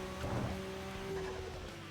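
A 1,100 horsepower kit car races in a video game, its engine droning steadily with tire noise and a rising tone, loud and continuous with no voice over it.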